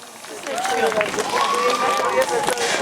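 An audience applauds louder to welcome the city mayor of Ostrów at a holiday and New Year greetings event, a steady wash of clapping that swells after the first half-second while a voice carries over it.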